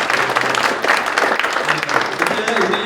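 Congregation clapping encouragingly at a church thanksgiving service, a dense steady round of applause close by for the choir leader and accompanist, with talk and murmuring mixed in.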